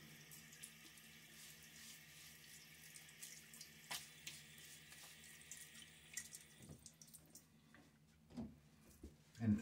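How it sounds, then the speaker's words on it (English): Running tap water splashing in a sink as face is wetted before a wet shave, a steady close rush with a few louder splashes near the end. "Water on my face now."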